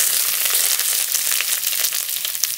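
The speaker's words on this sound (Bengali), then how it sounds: "এখানে পেঁয়াজ, রসুন, আদা, শুকনো লঙ্কা, কাঁচা লঙ্কা একসঙ্গে দিয়ে ভেজে নেব।" Onion, garlic, ginger, and dried and green chillies frying together in mustard oil in a kadai, a steady bright crackling sizzle that holds evenly throughout with no talk.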